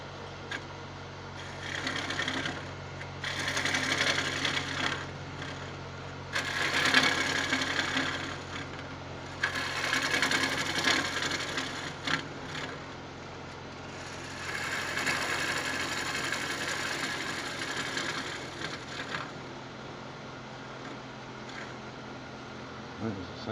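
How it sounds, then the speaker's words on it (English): A wood lathe turns a bocote bowl, its motor humming steadily while the cutting tool scrapes in several louder passes lasting a few seconds each. "I'm going to speed the lathe up a little bit"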